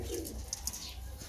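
A pair of Najafi Kambak pigeons cooing up close, soft low throaty coos with a few brighter notes, over a faint background rumble.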